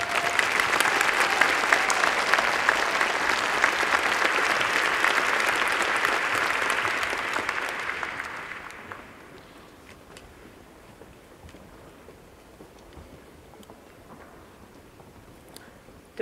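Applause from a graduation ceremony audience for a university chemistry graduating class, dense and steady for about eight seconds, then dropping abruptly to a quiet hall with faint scattered claps.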